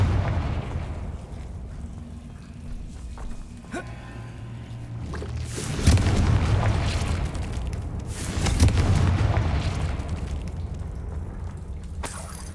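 Confringo spell blasts in the Hogwarts Legacy video game land as two booming explosions with rumbling tails, preceded by a softer thud, over a low ambient game background.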